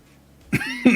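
A single person coughs twice in quick succession, close and fairly loud, after a moment of near silence.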